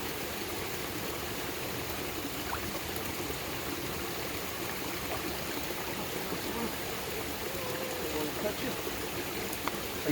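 A knife is rinsed in an outdoor stream after cleaning fish, with steady broadband rushing water filling the whole stretch at a constant close level and no distinct voices.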